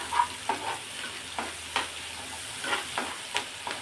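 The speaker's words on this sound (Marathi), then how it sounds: "आपण हा राहिलेला मसाला सुद्धा यामध्ये टाकून घेऊ आणि छान असा परतून घ्यायचा" Onion and masala sautéing in a pan for a steamed brinjal dish, with a soft steady sizzle and about eight light, evenly spaced scraping strokes of a spoon stirring through it.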